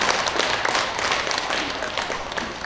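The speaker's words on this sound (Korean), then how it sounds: "박수 한번 치고 시작할까요?" Audience applause at a Korean writers' association annual general meeting, a dense wash of many people clapping in a room, steady and fairly loud for a few seconds.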